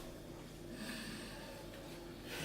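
A person sniffs Jaffa cake flavoured protein powder before it goes into a shake, a faint, close, drawn-out inhale with no talk.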